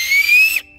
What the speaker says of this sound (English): Ooh, that's nature's whistle.